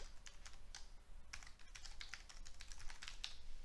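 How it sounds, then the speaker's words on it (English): Quick, uneven clatter of typing on a computer keyboard, soft and continuous with a few louder key presses, no voices. "Good, all that typing for nothing."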